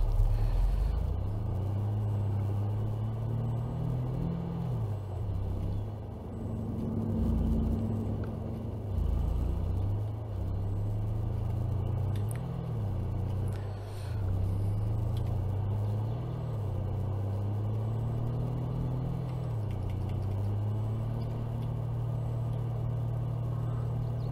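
A vehicle engine drones steadily while driving in Farming Simulator 22, a low rumbling hum that rises and falls slightly in pitch as the vehicle accelerates and eases off, with no talking.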